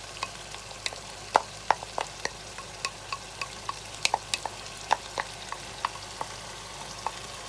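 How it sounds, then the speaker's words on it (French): Chicken curry sauce with yogurt stirred in, sizzling quietly in a pan, broken by sharp spattering pops and crackles at uneven intervals. "Et là, on va mettre yaourt dedans."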